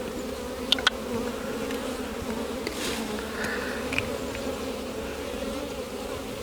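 Honey bees swarm over a hive frame during a queen cell inspection, a steady close buzzing drone holding throughout with a few brief louder passes.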